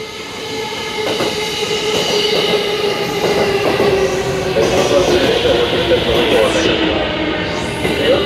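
A rapid train rolls into platform 4 of a Japanese station with steady rumble, wheel squeal and clattering, while a platform announcement in Japanese and English plays over it.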